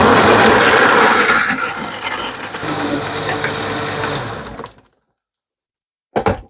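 Fifteen to twenty ice cubes for a pineapple milkshake are crushed in a blender, a loud grinding clatter that cuts off abruptly into silence before one short burst of noise at the end.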